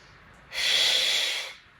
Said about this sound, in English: One more deep breath in and out.